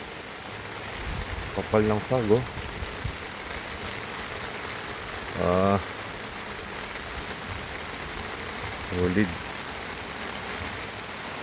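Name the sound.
heavy rain at a campsite during a typhoon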